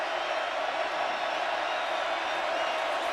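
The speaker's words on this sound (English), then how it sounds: "Crowd really getting into it now." Stadium crowd at a West Virginia at Texas college football game, a broad sustained roar of cheering and shouting that stays loud and even throughout, with a commentator's voice faintly under it.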